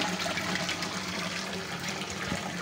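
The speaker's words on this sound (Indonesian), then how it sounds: "Ini waterfall sudah jalan" Koi pond waterfall about 50 cm long pouring steadily, a continuous close rushing and splashing of water with no voices.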